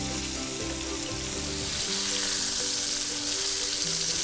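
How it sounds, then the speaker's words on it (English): Chicken pieces sautéing in a pan, a dense, steady sizzle and crackle that holds without a break, close and even, with no talking. "our chicken's been sauteing for about a couple minutes now"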